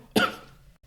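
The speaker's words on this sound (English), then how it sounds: "If you're gonna cough, go outside." One short, close cough, a sharp burst that quickly fades, with no voices around it.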